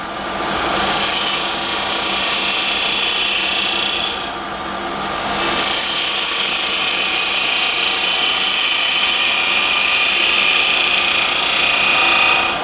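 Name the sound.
lathe tool cutting punky hornbeam wood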